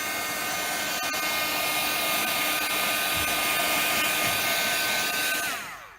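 A heat tool dries Brusho paint on a card, a steady, loud, continuous whirring blow that holds even throughout and then cuts off at the end, with no one talking.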